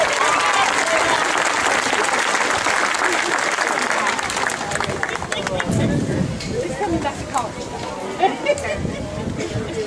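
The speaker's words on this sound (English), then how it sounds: "Please join me again in giving these amazing students another round of applause." Audience at a 2018 Citrus High School graduation ceremony applauding, dense sustained clapping from a large crowd that thins and scatters toward the end.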